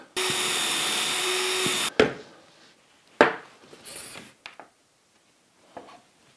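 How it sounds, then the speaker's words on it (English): A power drill whirs steadily for about two seconds, then stops, followed by scattered knocks and handling clatter. "I'll put that in, that's solid, and I can now drill here."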